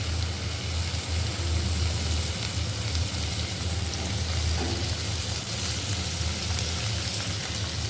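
Onion and tomato sautéing in a pan, a steady dense sizzle and crackle that carries on unbroken with no talk over it.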